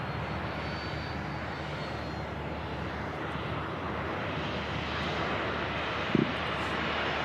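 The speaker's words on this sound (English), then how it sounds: "EasyJet just about to touch down from Paris." EasyJet airliner arriving from Paris on final approach to land at Manchester Airport, a steady broadband jet roar holding at even loudness throughout, with one brief knock near the end.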